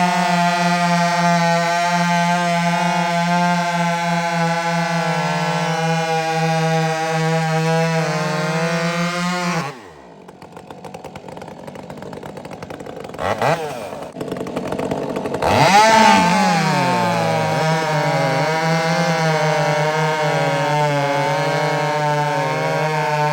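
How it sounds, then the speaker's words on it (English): Stihl and Husqvarna chainsaws, including a Husqvarna 572, rev hard at full throttle with a steady high whine, then drop to idle for several seconds and sputter before one roars back up to a sustained scream. "So let's have a little listen to the RPM here now."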